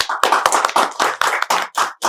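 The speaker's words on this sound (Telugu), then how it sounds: "give him a big applause" A studio audience applauds a young boy on a TV entertainment show, a burst of close, loud hand clapping lasting about two seconds.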